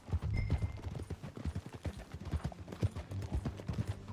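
Horse hooves clip-clop at a steady walking rhythm in Red Dead Redemption 2, close and distinct, with a faint whinny early on.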